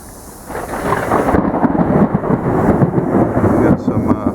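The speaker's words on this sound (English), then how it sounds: "We got some thunder going on here." Deep thunder rolls steadily and loudly, a broad rumbling roar that swells and holds for several seconds, heard outdoors during a storm.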